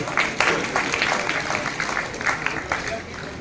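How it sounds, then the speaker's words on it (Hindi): Applause from a seated audience at a religious poetry recital, a steady dense patter of many hands clapping throughout, moderately loud, with a voice speaking over it. "तालियां उन्हें बजाते हैं, जय जयकार लगाते हैं"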